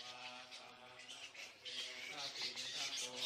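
Large flying fox bats squabbling at a crowded daytime tree roost in Thailand, a dense, continuous wash of shrill chattering squeals and squawks from many animals, fairly loud and unbroken throughout.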